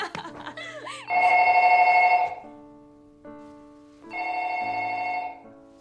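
A telephone bell rings in two loud bursts of about a second each, separated by a short pause, its shrill electric trill dominating a quiet room after some brief muffled sounds at the start.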